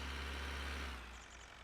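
A steady, loud tractor engine idle in the video game Farming Simulator 19 rumbles with a deep low hum, then cuts off and drops away near the end.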